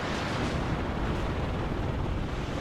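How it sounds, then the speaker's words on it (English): Dense, continuous rumble of artillery and missile explosions in the war strategy game WARNO, a steady low roar with no distinct gaps, loud and close throughout. "Got missiles and artillery coming in on those Abrams"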